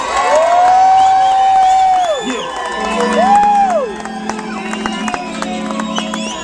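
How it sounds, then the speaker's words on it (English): A crowd cheers and applauds for DJ Jazzy Jeff at a live hip-hop show, loud and close, with whoops and shouts over sustained music tones. "If y'all enjoy my man DJ Jazzy Jeff, give him a round of applause, please."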